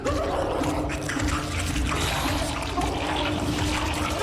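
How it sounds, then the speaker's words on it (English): Water splashing and trickling in Hollow Knight, during the Flukemarm boss fight in the Pantheon, a dense steady wash of liquid sound, close and fairly loud, with no talk. "Oh, there's water underneath."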